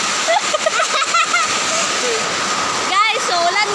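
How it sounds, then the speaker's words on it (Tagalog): Heavy rain pours down steadily as a dense, loud hiss that fills the whole clip, with voices talking over it. "Magbalik na, guys. Ay, wala na. Galit ka rin yan, kay ulan."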